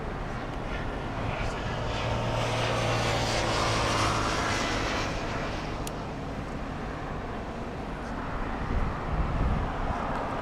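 A jet airliner flies near LAX, heard as a steady broadband engine roar that swells gently and holds across the whole stretch, fairly close and continuous, with no talking over it.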